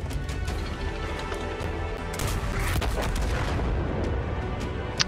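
Tank cannon fire in World of Tanks, Panzer IV and Panzer III among the vehicles, booming through a dense wash of battle noise with several sharp blasts and crashes over five seconds, no talk.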